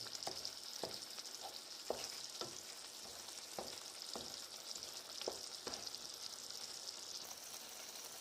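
Menemen with eggs cooking in a pan at dinner on a trip along the Aegean coast, a faint steady sizzle with occasional soft taps of a utensil, quiet and distant.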